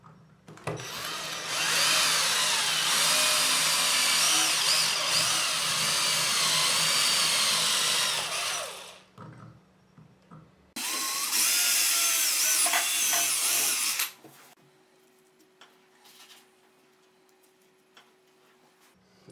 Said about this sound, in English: Now let's make two holes in a tile. I'm using the tile drill bit,